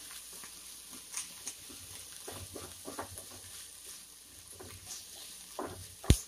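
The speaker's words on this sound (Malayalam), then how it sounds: "നമുക്ക് നല്ലതായിട്ടൊന്ന് വഴറ്റി കൊടുക്കാം" Sliced onion and coconut pieces sizzle steadily in oil in a pan for a jackfruit thoran, with light stirring scrapes and a sharp clink near the end.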